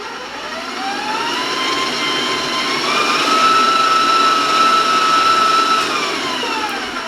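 Electric mixer beating cinnamon and nutmeg into a sugar-free spice cake batter, a steady loud whirring drone that rises slightly in pitch partway through and holds, with no talking.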